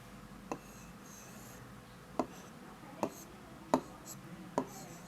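A pen or pencil writes in a notebook, heard as faint, sparse taps and strokes spaced about a second apart over a quiet room.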